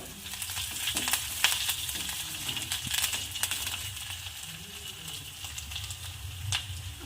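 Curry leaves dropped into hot oil with browned onions for spicy vermicelli upma, crackling and sizzling steadily, with sharp pops scattered throughout.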